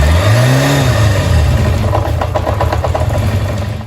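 A 1990s Kawasaki Zephyr 750 retro four-cylinder motorcycle engine runs close by, a loud low hum that dips in pitch, then settles into a fast, even idle.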